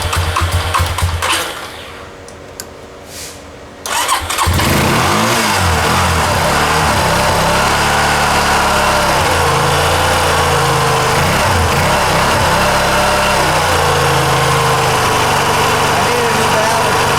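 A 2007 Honda Rancher ATV, sitting for a year on a weak battery, cold starts: brief quiet cranking, then the engine catches and settles into a loud, close, steady idle with slight surges.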